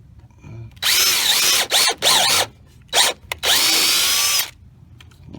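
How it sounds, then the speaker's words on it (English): Loud power drill whirring in several bursts: two short runs, a longer stretch, quick stop-start blips, then a sustained drilling run that cuts off abruptly. "my drill bit's starting to fall down here."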